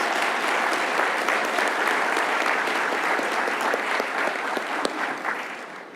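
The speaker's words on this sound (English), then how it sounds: "Let's give a round of applause to our 15-year honorees." A packed room applauds 15-year service honorees at an employee awards ceremony, with loud sustained clapping and cheering holding steady for the whole stretch.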